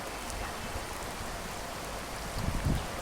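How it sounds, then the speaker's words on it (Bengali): Heavy rain pours down onto a rooftop in a steady, dense hiss, with a few louder splashing patters near the end. "অনেক বৃষ্টি হইতেছে, অনেক বৃষ্টি হইতেছে।"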